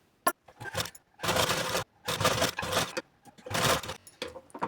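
A domestic sewing machine stitches a straight seam of lace onto an old katori blouse, running in several bursts of fast mechanical whirring and rattling separated by short pauses, close and fairly loud.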